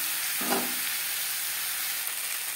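Potatoes are stirred in a pan with salt, turmeric and tomato, giving a steady close sizzle and hiss with a brief scraping stir near the start and no talking.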